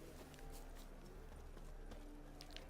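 Horse hooves in The Witcher video game clip-clop faintly in a soft, steady rhythm over a quiet background, ending in a sudden loud thump.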